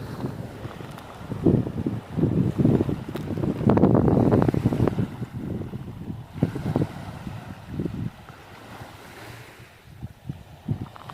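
Wind buffeting the microphone on Saline beach near Cannigione, Sardinia, rough gusty rumbles that rise and fall, close and loud, with surf faintly underneath.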